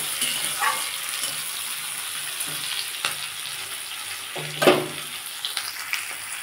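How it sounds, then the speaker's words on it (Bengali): Onion and tomato frying in a pan for a green jackfruit kofta curry, a soft continuous sizzle broken by occasional utensil scrapes and stirring clinks, close and alone without talk. "পেঁয়াজ আর টমেটোটা ভালো করে লাল লাল করে একটু ভাজবো।"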